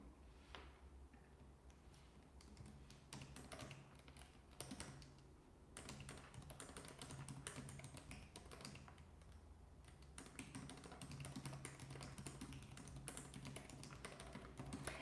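Steady, close keyboard typing on a computer, rapid irregular key clicks running without pause for the whole stretch, fairly quiet against a faint low hum.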